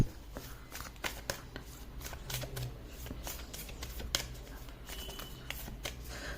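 A deck of tarot cards is shuffled by hand, close and moderately loud, with repeated riffling bursts and soft slaps in an uneven rhythm, no talking over it.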